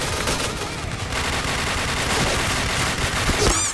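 Gunfire from the video game Point Blank, a dense continuous spray of shots that runs loud through the whole stretch, with no talking over it.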